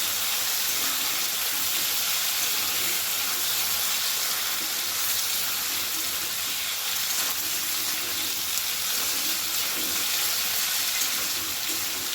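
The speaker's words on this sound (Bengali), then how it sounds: "গ্যাসের ফ্লেমটা একদম হাইতে করে ভালো করে এটা একটু ভেজে নিচ্ছি" Taro pieces fry in hot oil over a high gas flame, a steady, dense, close sizzling hiss that runs unbroken throughout.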